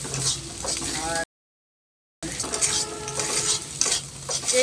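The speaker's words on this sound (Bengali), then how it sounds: "পেঁয়াজটা যেহেতু আমার লাল হয়ে গেছে, এখন এই যে আমি ভাজতে নিয়েছি।" Onions frying in a pan, steady close sizzling with rhythmic stirring scrapes of a utensil, broken by a brief silent gap before the frying resumes.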